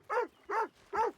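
A dog in a video game barks three times in an even rhythm, each bark short, clear and fairly close, with quiet gaps between.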